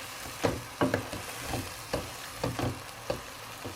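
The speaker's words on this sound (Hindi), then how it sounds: "सब्जियों को मैश कर रही हूँ।" Cooked vegetables and potatoes for pav bhaji are mashed in a pan, giving a run of soft, rhythmic squishing thuds roughly every half second, close and moderately quiet, with faint sizzling underneath.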